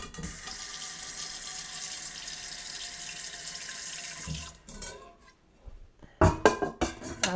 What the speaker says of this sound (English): So I just put about a half a cup of water in here.